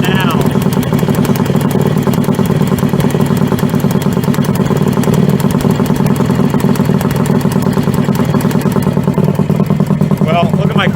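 A 1973 Kawasaki H1D two-stroke motorcycle engine running steadily at a rapid, rattly idle, loud and close, with a constant clattering pulse throughout.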